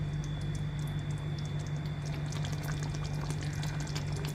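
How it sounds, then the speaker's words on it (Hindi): Water is poured into a mixing bowl for mutton korma. A steady close trickle and patter runs over a constant low hum from the kitchen, with no voice over it. "अब इसी बाउल में हमने 2 टेबलस्पून पानी इसमें ऐड कर रहे हैं।"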